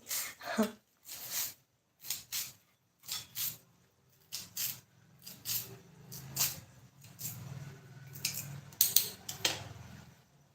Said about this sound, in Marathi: कोथिंबीर कट करून घेते